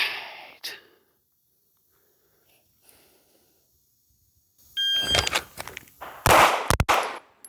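On a shooting range, a timer beep sounds, then a handgun is drawn and fired twice at a target, giving two sharp, loud reports in quick succession after several seconds of near silence.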